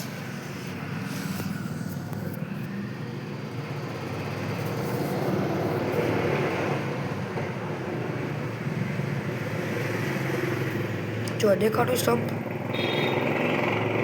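Traffic on a road beside a cricket practice spot in Delhi, with a steady rumble of passing cars and motorcycles throughout and a louder pass near the end, under someone talking.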